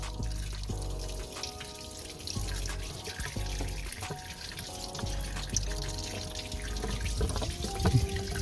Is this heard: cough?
no